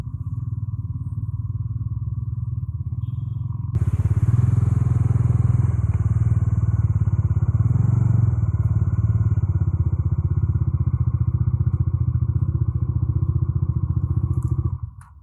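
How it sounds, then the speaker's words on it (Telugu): A motorcycle engine runs while riding on the road to Chirala Beach, a continuous close, low rumbling drone that swells louder partway through and holds steady before cutting off at the end. "బైక్ తీసాను"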